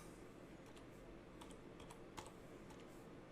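Quiet keystrokes tap out a name on a computer keyboard in a short, uneven burst of light clicks over a low background hum, with no one speaking.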